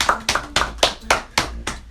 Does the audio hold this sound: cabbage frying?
no